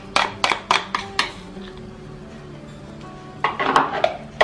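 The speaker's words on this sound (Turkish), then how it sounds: "Şöyle çay kaşığıyla yoğurdu avokadoların üzerine hemen döküyorum." Teaspoon clinking and scraping against a dish while scooping yogurt onto avocados for an avocado salad: several sharp, close metallic taps in a quick cluster, a quieter stretch, then another burst of clinks.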